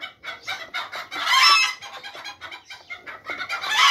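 Bantam chickens on a small poultry yard cluck busily and one crows, a lively, dense chorus of overlapping calls close by with no one speaking.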